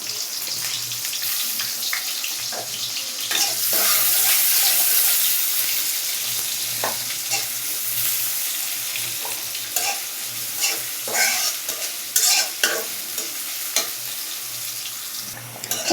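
Chopped onion, chili and garlic fry in a hot pan while being stirred, a close hissing sizzle broken by frequent scraping strokes and small clinks of the utensil.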